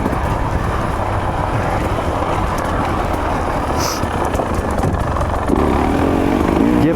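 A motorcycle engine with a warbly, hollow tone runs steadily throughout, heard close up as a continuous broadband roar mixed with wind-like rushing, growing slightly louder near the end.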